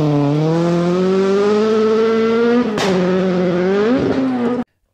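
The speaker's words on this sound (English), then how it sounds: "Have a listen with the gear selection dramas in the Escort." Ford Escort rally car on a stage, engine screaming under load then a sharp gear change with a brief crack before revs climb again, loud and steady until it cuts off abruptly.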